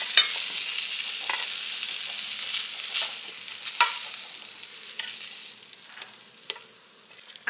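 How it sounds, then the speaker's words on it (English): Steady high hissing sizzle of meatloaf frying in a pan, continuous and close, with a few soft clinks and scrapes, no talking. "I don't know if you can hear that sizzling or not,"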